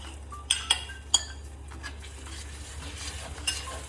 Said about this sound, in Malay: Sambil-sambil tu kita kacau lagi bagi rempah dia betul-betul masak.